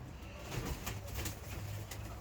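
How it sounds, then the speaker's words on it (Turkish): Pigeons at a coop in Kars, Turkey, cooing and stirring as a few birds are released to fly, with soft wing flutters over steady outdoor background noise. "Şimdi birkaç tane kuşu uçuracağız arkadaşlar"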